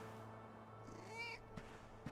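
A cat meows in the Dragon Quest XI S video game: one soft, rising and falling meow over a low steady background hum, followed by a couple of faint clicks.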